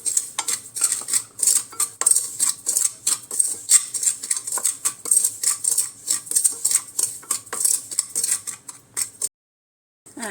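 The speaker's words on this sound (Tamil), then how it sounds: "இந்த ரவையை நம்ம லேசாக வறுத்துக்கலாம்" Wheat rava dry-roasted in a pan, a spoon or spatula scraping and clinking against the metal in quick, steady strokes close by, the rhythmic stirring continuing for several seconds before stopping abruptly.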